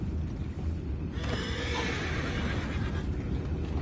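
A horse whinnies in a PS4 video game amid a dense, steady background hum, its neigh a drawn-out tonal cry in the middle of the clip.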